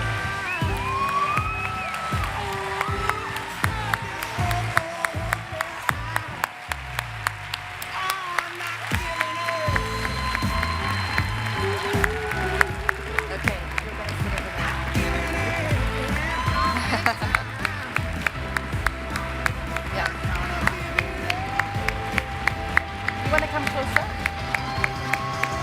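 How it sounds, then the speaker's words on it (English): Audience applause welcoming refugee guests at a gathering: dense, sustained clapping from a large crowd, mixed with music and a few whoops, continuing strongly throughout. "I think we give a big round of applause and a warm welcome to the rest of our..."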